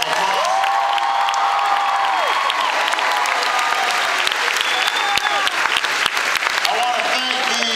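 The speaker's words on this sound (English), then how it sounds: "Give Maurice a big round of applause" A rally crowd at UW Eau Claire in February 2008 gives Maurice McIntyre a big round of applause. The dense clapping is loud and sustained, with scattered cheers and whoops and a voice speaking over it.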